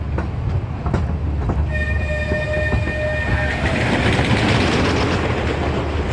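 The Big Dipper roller coaster train at Blackpool Pleasure Beach rumbles and clatters past on its track, with a sustained high whine partway through, loud and close throughout.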